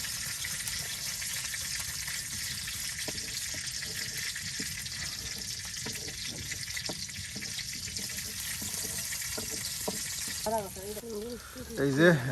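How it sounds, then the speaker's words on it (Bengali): Chopped onions sizzle in hot oil over a village cooking fire, a constant hiss and crackle with occasional stirring clinks, while a voice talks over the frying near the end. "এই যে দেখুন একদম পেঁয়াজটা একদম সুন্দর করে ভেজে নেওয়া হচ্ছে"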